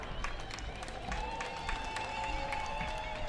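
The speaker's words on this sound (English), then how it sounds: "Step forward and everybody recognize you by hand clap." An audience claps in recognition of a woman prison officer at a women's celebration event, a steady patter of many hands continuing throughout with some murmured voices beneath.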